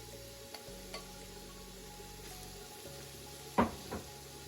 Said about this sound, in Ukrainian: додаємо в моркву, бурячок і смажимо 5 хвилин